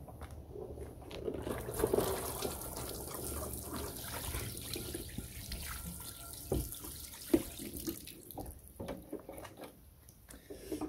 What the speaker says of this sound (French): Maintenant on passe au rinçage.